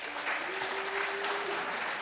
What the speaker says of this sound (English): Round of applause if you've ever heard of Django Reinhardt before tonight